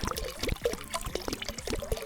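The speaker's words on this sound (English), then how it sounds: "Go ahead and chug this beer right quick." Beer being poured and chugged in a drunken car-repair video game, heard as a close, bubbly run of gulping and liquid splashes in an uneven rhythm, with no talking.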